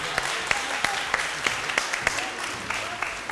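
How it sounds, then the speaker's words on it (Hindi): A studio audience breaks into applause for a recited Urdu couplet, dense clapping with sharp individual claps standing out, while a voice talks over it. "ये शेर पे तालियां होनी चाहिए।"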